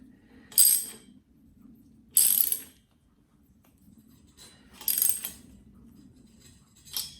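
Tightening a part on a 1979 Schwinn Traveler III bicycle: four separate short metallic clicks and scrapes spaced a second or more apart, close and crisp over a faint low hum.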